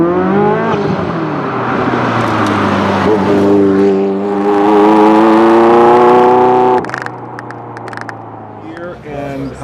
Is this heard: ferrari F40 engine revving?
yes